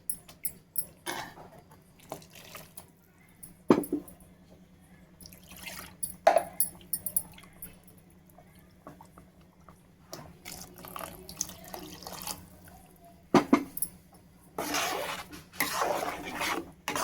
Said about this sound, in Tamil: இப்போது மிக்ஸி ஜாரை கழுவி அந்த தண்ணி மட்டும் ஊற்றிக்கலாம்.